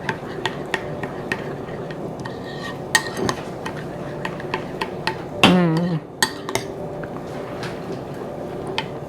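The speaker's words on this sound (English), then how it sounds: "just mix up everything" Sweet and sour tofu being stirred in a pan, with repeated sharp clinks of a utensil against metal and a soft scraping bed beneath, plus one louder rattling scrape midway.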